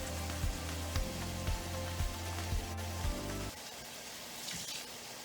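Salmon patties fry in a pan of oil with a steady crackling sizzle. Soft regular thumps sit under it for a few seconds, then stop, and the sizzle carries on alone.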